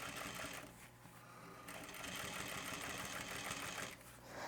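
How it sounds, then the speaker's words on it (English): A sewing machine runs close and steady, sewing a top stitch on a crossbody pouch, its needle whirring in long continuous bursts separated by brief pauses. "now I'm gonna sew this with a nice top stitch"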